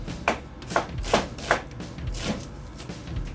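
Knife chopping onion on a cutting board, using the heel of the blade: about six close, crisp thuds in an even rhythm, with no speech.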